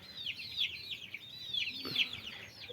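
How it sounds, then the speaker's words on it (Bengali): Native desi chicks, a flock of around thirty-five, peep continuously in rapid, high, downward-sliding chirps that overlap one another, with a few louder calls standing out over faint background noise. "এখানে আমার দেশি মুরগির বাচ্চা আছে"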